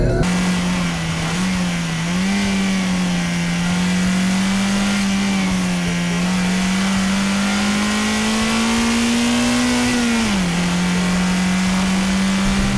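A Mazda MX-5 ND with a 1.5-litre, 130-horsepower engine drives at a steady pitch and revs up and down slightly. The engine note is loud, continuous and sits under constant road and wind rush.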